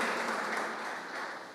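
A church congregation at a worship service breaks into brief applause, a dense, moderately loud wash of clapping that holds steady for a moment and begins to fade.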